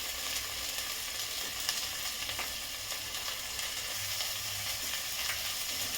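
Spices, dal and rice sautéing in a pan for khichdi, a constant bright sizzle with occasional soft stirring scrapes, close and alone without talk.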